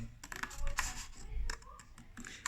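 Scissors snipping through paper while cutting for a mouth fold, a few crisp close cuts with soft rustling between them.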